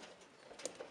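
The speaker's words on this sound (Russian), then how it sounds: "прилетел голубь" A pigeon at a racing loft gives a brief, faint coo against a steady background hiss, lasting only a moment.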